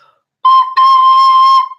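A small wind instrument with a thumb hole sounds the same clear, pure note twice, a short blow then a longer sustained one, loud and close with no talking.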